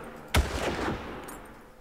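A single sharp gunshot cracks out in the video game Far Cry, followed by a rumbling echo that fades over the next second; no one speaks.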